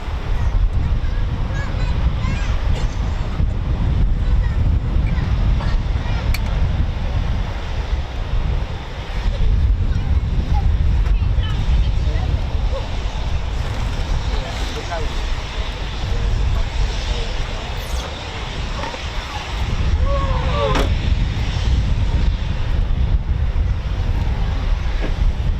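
A Eurofighter Typhoon FGR4 jet taxis at RAF Coningsby during an evening show, making a steady, loud broadband roar mixed with wind buffeting on the microphone, with voices talking over it.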